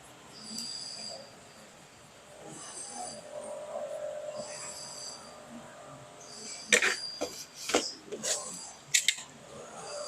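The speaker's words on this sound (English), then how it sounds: "I'll scrape this off with just a plastic scraping tool so that it doesn't damage the metal" Hardened thermal pad residue being scraped off the metal of a Gigabyte RTX 3070 Ti graphics card with a plastic scraper: faint scratchy rasps, then a run of sharper, louder scraping strokes near the end.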